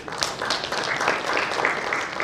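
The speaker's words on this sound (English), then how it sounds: "A hand clap to our partners." Audience clapping at a youth employment clock launch event in Kigali, Rwanda, a short burst of steady applause from a crowd filling the room.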